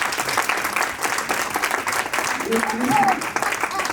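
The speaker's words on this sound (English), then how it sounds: "that clap is not enough. Could you give them just a standing ovation?" A conference audience claps steadily throughout, a dense and fairly loud wash of applause with some faint voices mixed underneath.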